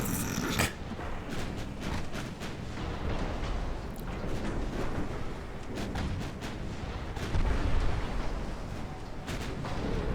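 Torpedo hit explosions in a naval warfare video game with Japanese dreadnoughts: repeated sharp booms and crackling blasts over a continuous rumbling battle din, loud and close.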